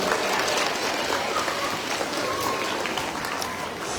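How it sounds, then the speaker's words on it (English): School assembly audience applauding a newly selected student ambassador, a moderately loud wash of clapping from a crowd that holds steady and tapers slightly toward the end. "Give her a round of applause."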